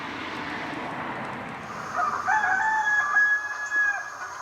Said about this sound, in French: Alors ça, c'est les coqs pendant l'heure de midi.